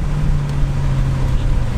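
Tuned Seat Leon Cupra 300 front-wheel-drive car heard from inside with the windows down: a steady, loud low engine drone with road rumble and no talking.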